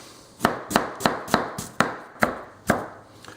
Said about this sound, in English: slice up, and we chop it in fine parts